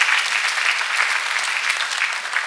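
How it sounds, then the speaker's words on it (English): Steady applause from a crowd, dense and continuous clapping throughout at moderate distance. "Can we clap for Master Jesus?"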